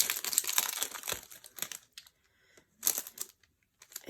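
Crinkling and crumpling of thin plastic packaging as a Sunburst thin-cut craft die is pulled free, with close, loud bursts of rustling in two spells separated by a quiet gap.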